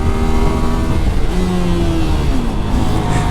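A MITT GP 125 motorcycle engine running while being ridden, a loud close buzzing drone that rises and falls slightly in pitch with no talking.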